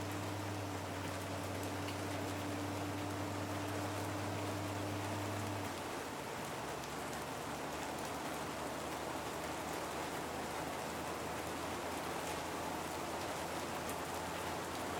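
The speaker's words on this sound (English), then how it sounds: "And it's raining, making it even more dangerous." Steady rain falls on a road in China where a blue car has broken down, a constant soft hiss. A low hum fades out partway through.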